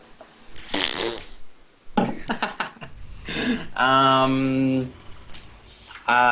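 A voice imitates a fart with a buzzing, sputtering blow of the lips, lasting about a second amid nearby chatter and soft laughter.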